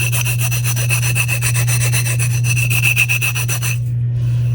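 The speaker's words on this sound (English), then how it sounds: "I just use a nail file." A Christmas ornament rubbed with a nail file, giving steady rapid back-and-forth rasping strokes close up over a constant low hum, stopping abruptly near the end.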